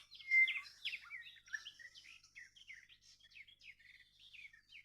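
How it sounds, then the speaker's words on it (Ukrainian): A nightingale sings a rapid run of high, varied chirps and trills at about 5 a.m. in early June, loudest at the start and then carrying on more softly, with no other sounds around it. "Соловей вже скоро закінчить свої трелі виспівувати."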